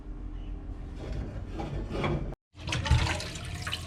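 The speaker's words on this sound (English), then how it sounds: "washing peas" Tap water runs steadily over peas being washed in a home kitchen, a continuous rushing splash with a brief cut before it resumes louder.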